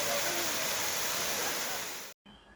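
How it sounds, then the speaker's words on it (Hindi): Jana waterfall near Naggar in the Kullu valley, a cold mountain waterfall. Its steady roaring rush of falling water is loud and continuous, then cuts off abruptly to a quieter background. "यह है जाना वाटरफॉल जो नगर से करीब 15 किलोमीटर दूर है।"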